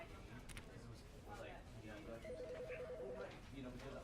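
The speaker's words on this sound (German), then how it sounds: "Ein Telefon klingelt." A telephone rings in The Stanley Parable video game, a short, faint warbling trill under steady talking.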